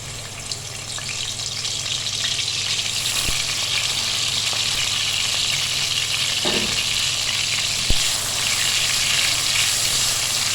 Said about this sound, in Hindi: अब इसमें डालेंगे हम 2 टेबलस्पून अदरक लहसुन